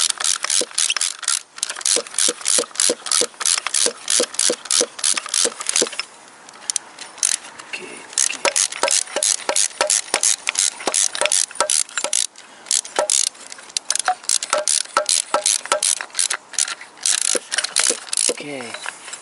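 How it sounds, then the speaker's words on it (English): A ratchet wrench tightening a bolt while installing an engine block heater, with long runs of fast metallic clicking broken by short pauses and a few slower ratcheting strokes, up close. "Then I start to fasten this bolt."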